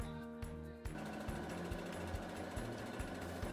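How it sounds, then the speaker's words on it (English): Sewing machine stitching an under collar to a neckline: close, rapid mechanical chatter in a steady rhythm, starting after a brief pause and running continuously. "Then I'm going to stitch the under collar to the neckline, stitching the dots at the same time."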